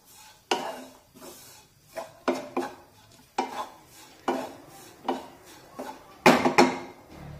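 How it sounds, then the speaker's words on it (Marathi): Spice masala being stirred and roasted in a pan over a medium gas flame, the spoon scraping in a series of distinct strokes, with the last pass louder than the rest. "आपल्याला हे मसाले अगदी व्यवस्थित भाजून घ्यायचे आहेत, परतून घ्यायचे आहेत"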